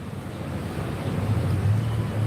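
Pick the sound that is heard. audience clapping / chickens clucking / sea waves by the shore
sea waves by the shore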